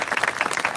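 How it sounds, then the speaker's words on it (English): Crowd at a Memorial Day ceremony applauds in a brief, busy burst of many hands clapping, fairly close and uninterrupted by speech. "Let's give Rita a big round of applause."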